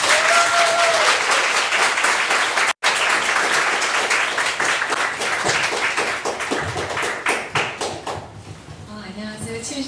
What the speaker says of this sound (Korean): 우리 다 같이 격려의 박수 힘있게 해달라고.